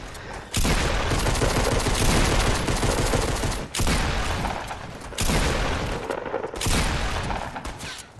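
Sustained bursts of automatic gunfire from a Fortnite match, loud and dense in several long volleys separated by brief gaps.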